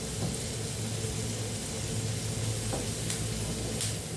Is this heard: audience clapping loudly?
no